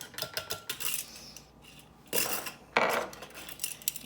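Cinnamon being stirred into other ingredients in a bowl for a honey bun cake, giving light clinking and scraping of a utensil against the bowl in uneven bursts with brief pauses, close up and alone.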